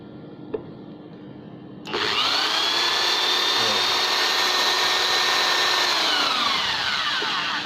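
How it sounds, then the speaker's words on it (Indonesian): An electric drill powered by a backup electric generator whirs up after a brief quiet moment, then runs at a steady high-pitched whine, loud and close, until it slows at the end. "Kita coba ngebor ya."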